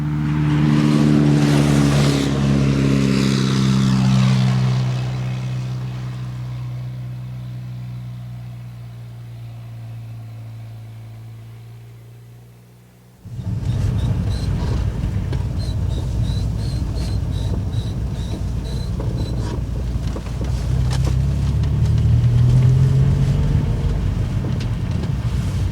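A Porsche stuck in snow in the Lake District, its engine droning and revving loudly at first, then fading down before a steady, rushing outdoor noise takes over for the remainder.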